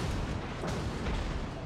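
Dense, continuous rumbling naval gunfire and explosions from World of Warships, with overlapping booms around the battleship HMS Nelson under fire, heavy and sustained with no clear gaps.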